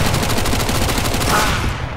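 Rapid Mac 10 automatic fire in Counter-Strike: Global Offensive, a dense continuous rattle of shots running close and loud through the whole moment with no voices.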